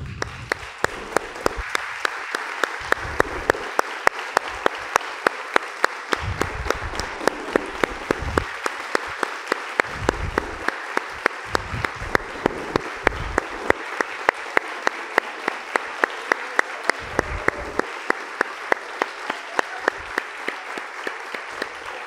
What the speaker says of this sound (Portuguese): vamos aplaudir a esse povo bonito que são os veteranos da nossa igreja